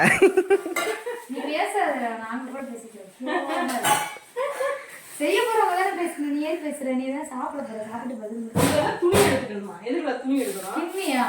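Bowls and pots clink and clatter now and then while a person talks steadily over the kitchen noise.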